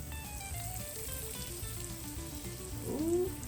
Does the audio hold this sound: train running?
no